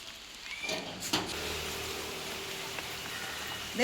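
Steady rain hisses continuously, with a brief knock and a faint mechanical slide partway through.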